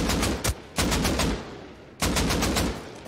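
Bursts of AK rifle fire in the survival game Rust, three loud rapid volleys of automatic shots close up, separated by short gaps, with no talking.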